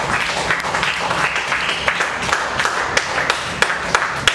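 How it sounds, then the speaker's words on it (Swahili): Congregation applauding church servants during a Swahili worship service, steady dense clapping sustained throughout at moderate loudness with scattered sharper claps. "Hebu mpigie makofi watumishi hawa."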